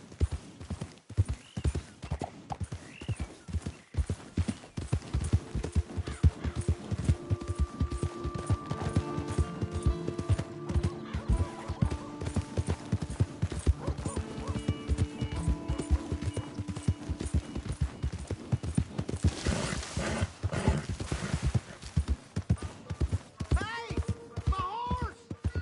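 Horse hooves clip-clop at a steady galloping rhythm in the Western video game Red Dead Redemption on PS4, close and continuous, with a whinny and game voices talking over the hoofbeats.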